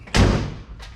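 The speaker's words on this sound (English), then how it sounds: "Let me get this door shut." A door is pushed shut with one solid, close thud, then a fainter knock follows a moment later as it settles into the frame.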